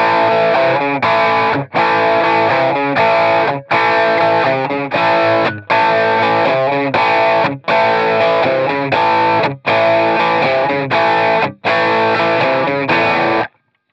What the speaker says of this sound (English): So if I just switch my overdrive on.